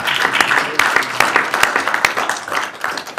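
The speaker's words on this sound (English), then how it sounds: "so if we can give Mia a round of applause for putting up with Brian" Audience at a city council meeting applauding, with moderate, uneven clapping and distinct individual claps under some background murmur.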